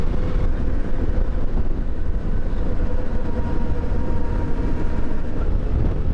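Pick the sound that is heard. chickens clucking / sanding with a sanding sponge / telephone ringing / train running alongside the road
train running alongside the road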